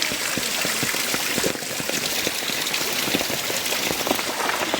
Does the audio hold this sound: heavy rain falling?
yes